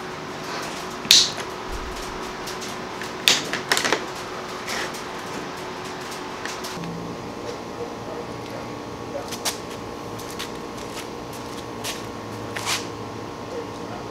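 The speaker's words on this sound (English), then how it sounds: "let's cut the ladder line at" Ladder line being cut to length for a homemade 6 meter antenna, heard as a few sharp, close snips and clicks spaced a couple of seconds apart over a quiet room hum, with no talking.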